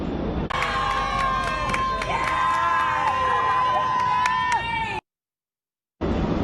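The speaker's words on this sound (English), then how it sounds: "Protesters cheering as 18-year-old Nikki Stone, a young trans woman there with the backpack, was released from NYPD custody" Crowd of protesters in Times Square cheering loudly as a young trans woman is released from NYPD custody; dense shouting and whistles fill the scene near and sustained, then break off abruptly into silence before the noise returns.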